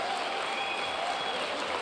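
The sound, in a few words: applause, clapping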